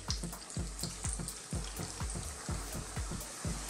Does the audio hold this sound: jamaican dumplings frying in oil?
yes